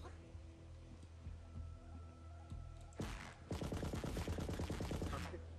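Dubstep gun in Borderlands 3 firing a loud burst of rapid, rhythmic electronic blasts in the latter half, preceded by quieter game ambience and background hum.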